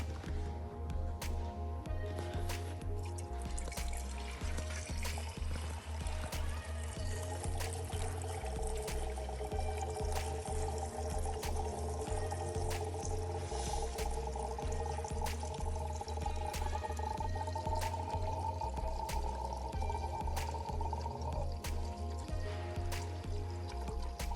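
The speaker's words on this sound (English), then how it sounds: "So we'll fill it full of antifreeze now" Antifreeze coolant poured into a Mercedes A-Class engine, a soft continuous trickle and gurgle of liquid close by, with faint intermittent clicks and taps over a low steady hum.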